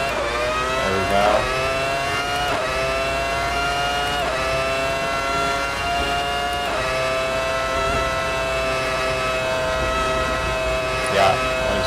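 A V10 car engine in the racing game Assetto Corsa holds a steady high-pitched whine for the whole stretch, with a few brief shifts in pitch as the revs change. It stays loud and continuous, with no one talking over it.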